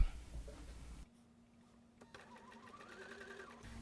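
A sewing machine stitches pieces for an Alaska block-of-the-month quilt, a faint, steady whirring run after an initial stretch of louder handling noise.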